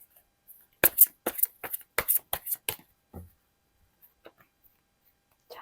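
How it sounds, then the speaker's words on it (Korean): Tarot cards are drawn and shuffled by hand in a quiet room, a quick burst of crisp riffling and flicks followed by a few soft isolated taps. "다른 카드도 한번 뽑아 볼게요"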